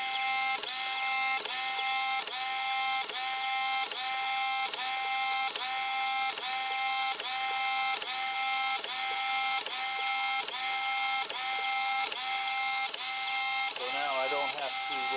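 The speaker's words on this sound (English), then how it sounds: "I can set the machine up and put some fuel tubing on it, and it will cut the fuel tubing for me." A servo-fed automatic cutter slices fuel tubing as it rolls off a wheel, a steady mechanical whirring and clacking repeating in even cycles about every two-thirds of a second, close and constant throughout.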